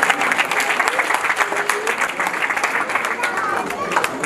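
Guests at a wedding anniversary party in Houston, Texas, break into loud sustained applause, a dense close clapping with crowd chatter and cheering mixed in.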